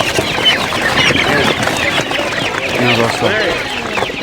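Two-and-a-half-month-old chickens cluck and chatter steadily at a poultry market in Turtkul, beneath close, continuous conversation.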